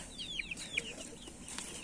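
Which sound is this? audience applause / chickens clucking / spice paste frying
chickens clucking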